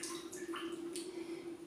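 Soaked cleaning cloth being wrung out over a washing basin in a kitchen, a few quiet drips and light splashes of water falling back into the tub, close and alone.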